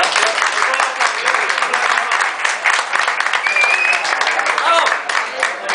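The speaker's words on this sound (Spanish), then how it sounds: "darle un aplauso" A crowd applauds steadily at a tabletop wargaming tournament prize ceremony, dense sustained clapping filling the room at close range, with speech mixed in under it.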